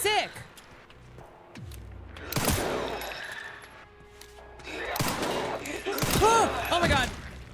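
Gunshots ring out in a video game, several sharp, loud bursts scattered among other game effects and tonal sounds, with a person talking over them.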